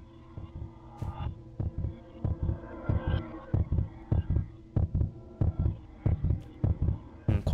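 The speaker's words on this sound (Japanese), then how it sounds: "うん、鼓動が激しい。" A heavy, pounding heartbeat in a Japanese horror video game thumps in a steady double-beat rhythm, loud and close, with no talk over it.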